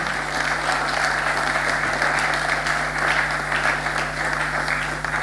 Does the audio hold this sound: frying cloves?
no